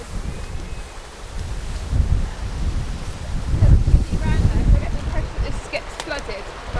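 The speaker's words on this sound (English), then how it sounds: "Whoa, this is cool in the wind." Strong gusts buffet the microphone on a rocky coast, rising and falling in loud rumbling surges with waves washing below, while voices are faintly heard near the end.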